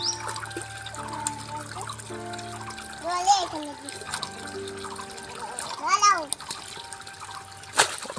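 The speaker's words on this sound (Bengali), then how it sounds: "জল দিচ্ছিস তুই, জল দিতে হবে না" Water poured onto garden plants trickles and splashes intermittently while a child and an adult talk over it.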